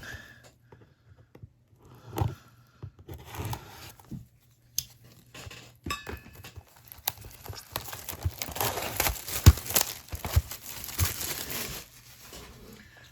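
Foil trading card packs from a 2023-24 Upper Deck Marvel Annual hobby box being torn open by hand, crinkling and ripping in bursts that grow busier and louder toward the end, with no talking.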